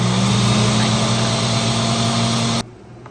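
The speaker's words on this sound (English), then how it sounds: "I blended on a setting that has like pulsing from high to low, because I'm using a really large blender instead of a food processor" A large blender on a pulsing high-to-low setting grinds dried yarrow into powder, giving a loud, steady motor drone with a gritty whir that cuts off abruptly near the end.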